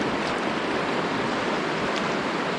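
Steady broadband rush of flowing water on a stretch of the Upper Tongariro River near Taupo, close and continuous with no voices.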